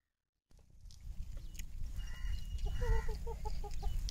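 Chickens cluck in a village kitchen setting while a low rumbling background continues, with a short run of rhythmic clucks near the end.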